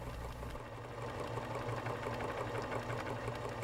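A Pfaff sewing machine running continuously as it stitches a satin stitch column, a steady close mechanical hum with rapid rhythmic needle chatter, no voices.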